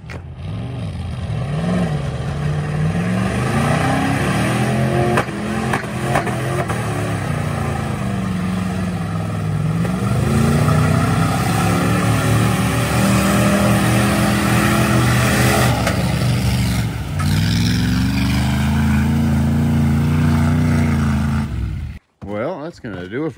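Tow trucks racing each other around a dirt pit, engines revving hard and rising and falling through repeated acceleration sweeps, loud and close for over twenty seconds before cutting off abruptly.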